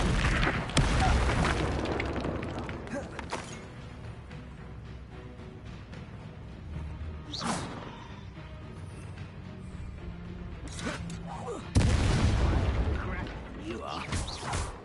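Incendio fire spell cast in the video game Hogwarts Legacy, loud whooshing fiery blasts and booms at intervals amid game effects, with a voice talking between them.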